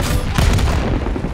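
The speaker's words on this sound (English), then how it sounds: "Flashbang out." A flashbang grenade detonates during a Hardpoint match in Call of Duty Black Ops 6, a loud, dense burst of booming noise that fills the whole moment with no pause.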